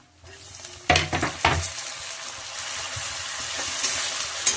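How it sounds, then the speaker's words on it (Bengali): Onions and chopped tomatoes hit a hot pan for a mutton dish, a few sharp clattering bursts giving way to a steady, close sizzle. "পেঁয়াজটা প্রায় ভাজা ভাজা মতো হয়ে এসছে"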